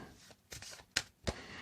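A few quick riffling snaps of cards being shuffled, close and fairly soft, in brief bursts.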